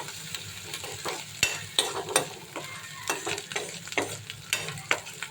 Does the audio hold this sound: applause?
no